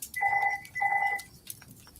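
A phone rings in two clear electronic bursts, loud and close, followed by a brief faint chirp and quiet.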